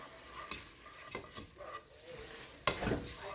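Chicken pieces and onion stirred in a pot, a spoon scraping in a few separate strokes and one louder scrape near the end, over a faint sizzle.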